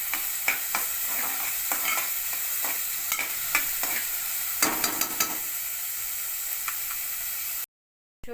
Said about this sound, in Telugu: ఇవి బాగా ఫ్రై చేసుకుందామండి ఆనియన్స్ అనేవి